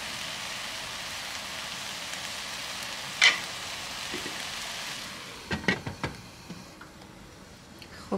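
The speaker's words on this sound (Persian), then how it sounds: "اینم از مرغمون داره پخته میشه" Chicken frying in a pan for an Iranian chicken stew with coriander and plums, a steady close sizzle that softens midway, broken by a few sharp clinks and stirring clatters.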